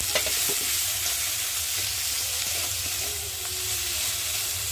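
A spice paste of ground mustard, ginger paste, turmeric, cumin and tomato fries in a pan, giving a steady close sizzle with occasional stirring scrapes throughout.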